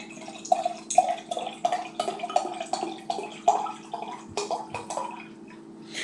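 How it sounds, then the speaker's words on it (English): Ricker Hill Mainiac Black Select hard cider poured aggressively into a glass, a close, bright splashing and gurgling stream with bubbly fizzing that keeps on in uneven pulses before trailing off. "Now that was a fairly aggressive pour."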